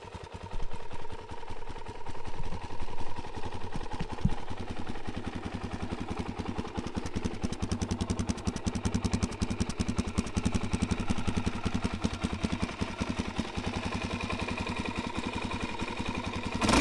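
A newly bought motorcycle engine, cranked with the clutch pulled in, catches and settles into a steady close-up idle with rapid, even clatter and a low drone running throughout.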